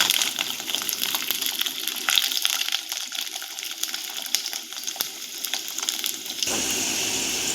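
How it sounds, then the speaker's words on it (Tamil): A cup of peeled garlic frying in hot oil for garlic pickle makes a steady, fairly loud hissing sizzle that runs throughout and brightens near the end. "இப்போ பூண்டு அந்த 1 கப்பை உரித்து வச்சுருக்கிறத போடுறேன்."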